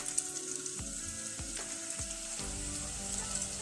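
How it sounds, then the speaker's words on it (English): Beef samosas fry in hot oil with a steady, dense sizzle and crackle that holds throughout, close and even, with a few soft knocks as the pastries settle. "Yeah, so the oil is ready. Then you add your samosas"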